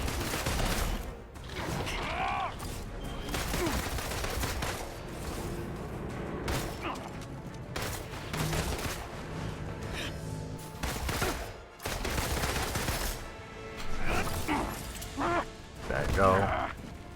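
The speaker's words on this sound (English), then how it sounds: "So, Black Widow also has guns." Bursts of gunfire from Black Widow in Marvel's Avengers on PC, with rapid shots, impacts and crashes over dense game music and effects, loud and continuous throughout.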